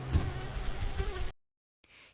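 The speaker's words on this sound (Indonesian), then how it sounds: "Kenali nyamuk penyebab demam berdarah." An Aedes mosquito buzzes in a short burst of droning whine that stops abruptly, followed by near silence and a faint hiss.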